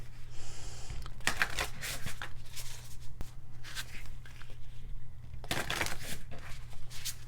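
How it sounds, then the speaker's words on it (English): Woodland Wardens oracle cards are shuffled in close, crisp bursts of riffling and flicking, separated by brief pauses and soft handling rustles, with a low steady hum underneath. "I want to say that I see a rabbit in my mind's eye as I'm shuffling."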